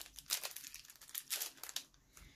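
Plastic packaging for a journaling item crinkles in quick, close bursts as it is pulled open by hand, with brief crackly rustles coming and going at low volume.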